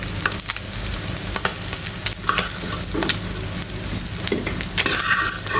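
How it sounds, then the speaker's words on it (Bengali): Oil sizzles loudly and continuously as small puthi fish fry, with occasional scraping and stirring sounds close by. "এই মাছটাও ভাজা হয়ে গেছে এখন আমি তুলে নিচ্ছি"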